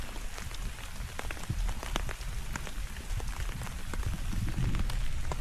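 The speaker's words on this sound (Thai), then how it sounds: "ฝนก็ลินๆครับดีที่ไม่ตกแรงครับ" Light rain patters steadily on surfaces at a night campsite, a dense, even hiss of drops with scattered louder taps close by, continuing without talk.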